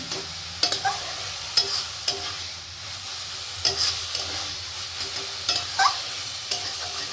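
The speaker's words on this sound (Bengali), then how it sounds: "একটু নেড়ে নেড়ে শুকিয়ে নেবে" Bathua greens cooking with eggplant in a frying pan, stirred repeatedly to dry them out: a soft continuous sizzle broken by regular spatula scrapes and taps, close up, with no voices.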